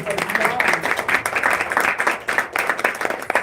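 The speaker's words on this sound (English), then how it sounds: "big applause" Sustained clapping from a small group at a live event about film festivals and grants, close and fairly loud, with a few voices faintly under it.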